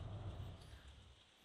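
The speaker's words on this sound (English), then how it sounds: "Apologies for the rain you can hear in the background." Rain hammers down outside a conservatory as a faint, continuous hiss of drops with a soft low rumble beneath it, steady and unbroken.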